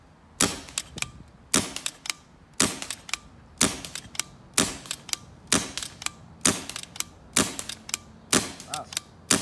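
A 2003 Empire Sniper paintball marker fires about ten sharp, evenly spaced shots at roughly one per second, each a crisp crack with a brief mechanical ring-off, close and fairly quiet overall, no voices.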